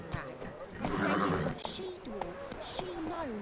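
A horse in The Witcher 3 video game whinnies in rising and falling calls, with clip-clopping hooves and a voice speaking over it.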